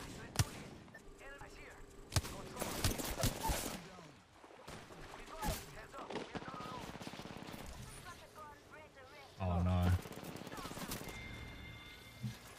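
Wingman revolver shots in the Apex Legends video game ring out as sharp, intermittent bursts among busy game sounds, while someone talks over the action.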